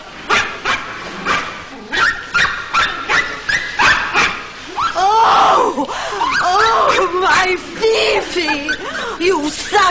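A small dog barking and whimpering, rapid repeated close yaps followed by high whining cries, loud and continuous, with a voice shouting over parts of it.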